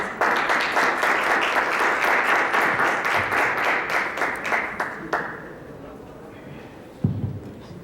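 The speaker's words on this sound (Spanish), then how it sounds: "Por favor, démosles la bienvenida con un fuerte aplauso" Audience applause at a conference in Mexico welcoming speakers: dense, loud clapping for about five seconds, thinning into a few scattered claps before a voice begins speaking.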